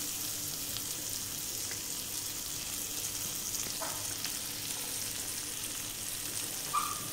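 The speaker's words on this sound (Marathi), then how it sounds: "ह्या दोन्ही शिमला मिरची थोड्याशा आधी मी रोस्ट करून घेते" Capsicum (bell peppers) roast in a pan with butter, giving a steady close sizzle and crackle with faint stirring and scraping, unbroken throughout and with no talking.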